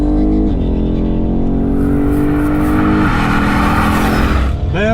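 A BMW car engine accelerating during a race, loud and close, revving up through the gears with audible shift breaks and a final sharp rise in pitch near the end.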